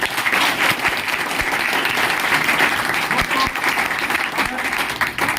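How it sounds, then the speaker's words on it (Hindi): At a business team meeting in Gurgaon, an audience gives loud, sustained applause for a team achievement, dense clapping throughout with a few sharper individual claps standing out. "एक बार जबरदस्त तालियां"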